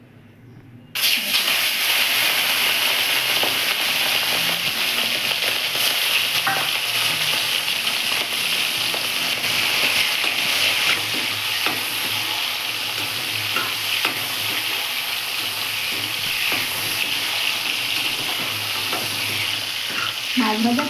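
Prawns sizzle loudly and continuously in hot oil in a pan, a dense crackling hiss that starts suddenly and holds steady throughout, with occasional faint pops and utensil clinks.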